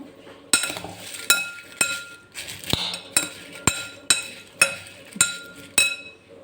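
Papad churo being mixed with salt in a bowl, giving a steady series of sharp, ringing clinks about every half second, close and alone with no talk.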